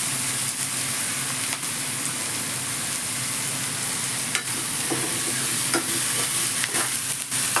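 Onions with chillies and curry leaves sauté in a pan, producing a continuous close sizzle broken by scattered scraping and clicking strokes as a spoon stirs them, with no talking.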